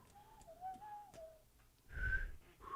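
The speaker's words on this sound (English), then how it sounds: "you're whistling Smash music" Someone whistles a bouncy Super Smash Bros.-style tune in a basement, with clear, close melodic phrases for about a second and a half before a louder rustling thump cuts in.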